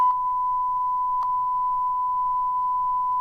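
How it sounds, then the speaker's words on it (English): A long, steady censor bleep holds one pure tone for the full span, loud and unbroken, with a faint low rumble of background noise underneath. "that long beep just proves it"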